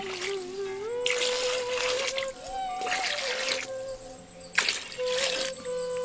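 Two litres of water pour into a pot holding four washed mutton legs, a steady trickling and splashing in short bursts, with a faint tonal hum underneath.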